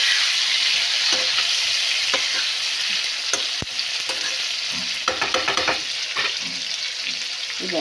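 Spice paste sizzles and fries in a pan for katla kalia while a utensil stirs and scrapes through it, a loud steady hiss with irregular clinks and scraping strokes up close.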